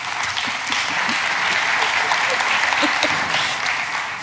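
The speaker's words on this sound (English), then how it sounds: "I've never been applauded for one of my ridiculous rants before." A conference audience at an iOS developer event claps steadily for about four seconds, a dense, close wash of applause with faint voices mixed in.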